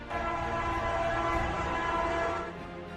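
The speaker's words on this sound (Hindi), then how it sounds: "वो आवाज जो आ रही थी वो ट्रेन के हॉर्न की थी" A train horn sounds inside a railway tunnel, a sustained, loud, reverberant blare holding steady for most of the stretch before easing off near the end, with the rumble of the train underneath.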